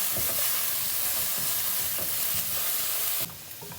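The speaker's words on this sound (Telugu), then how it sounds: "ఇది క్యాప్సికమ్ ఏమో ఫ్రై అవుతుంది." Capsicum sizzling steadily in hot oil in a pan, a dense loud frying hiss with faint stirring scrapes, which drops abruptly near the end.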